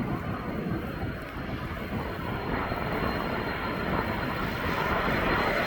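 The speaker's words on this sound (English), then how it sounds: "they're waiting for this aircraft over at DHL" A fixed-wing aircraft at East Midlands Airport gives off a steady, loud engine roar that swells slightly toward the end, with a broadband rumble and light wind buffeting and no talk.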